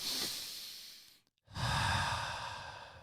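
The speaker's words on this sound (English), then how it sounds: "now I feel like we need to really everybody take a deep breath with me" A live audience at a speaking event draws in a long, deep collective breath, then exhales together in a broad, airy whoosh after a brief pause, with no talking.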